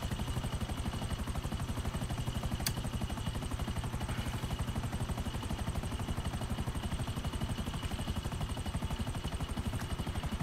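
A helicopter engine in GTA 5 Online drones steadily with a fast, even rotor chop throughout, loud and constant with no voices over it.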